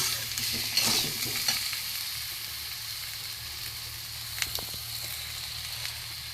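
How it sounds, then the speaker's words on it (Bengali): Ground spices (salt, turmeric, chili powder, sugar, coriander and cumin powder) sautéing in a pan for a vegetarian pointed-gourd dish. A low, even sizzle continues, with occasional light spatula clicks and scrapes. "এবার আমি এটাকে মশলার সাথে ভালো করে কষব"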